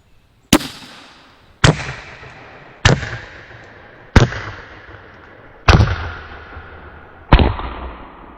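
A Bintac T9 PCP air rifle, a pistol-barrel-length carbine, fired six times through a chronograph: sharp, loud, close cracks at roughly even intervals, each with a short fading ring.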